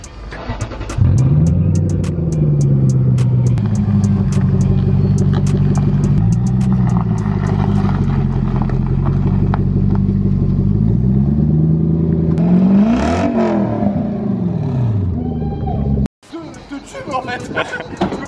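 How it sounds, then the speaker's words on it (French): A V8 car engine cranks and catches, then runs at a deep, loud idle with rising and falling revs and a brief louder rev near the end before cutting out, heard up close with some talking over it. "on va la déplacer et un peu la démarrer. Et vous allez entendre ce que c'est. Un vrai V8."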